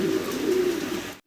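Maltese pigeons cooing at a pigeon farm, a steady low murmuring coo close by that stops abruptly at the end.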